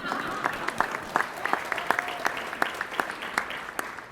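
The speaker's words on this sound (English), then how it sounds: "big clap." Scattered, distinct claps from a modest audience at the opening of a modular housing facility in West Louisville, individual hand strikes ringing out irregularly beneath a speaker's voice.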